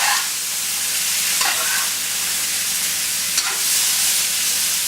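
Stir fry being stirred in an ordinary frying pan rather than a wok, a steady close sizzle and hiss of frying food with a few soft scraping stirs, no voices.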